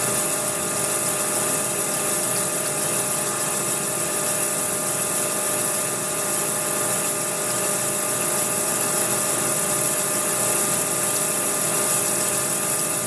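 A lathe turning a 4.5-inch aluminum bronze handwheel spacer at 200 RPM, a steady continuous machining whir and hiss, close and even throughout with no talk.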